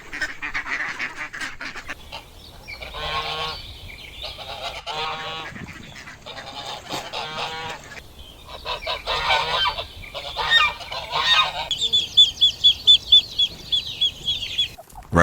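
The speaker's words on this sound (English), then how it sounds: "The swan is a large water bird of the genus Cygnus, family Anatidae." Swan calling, a series of loud, nasal honking bursts near at hand, some drawn out and some quick, ending in a rapid run of short repeated honks, with no voice over it.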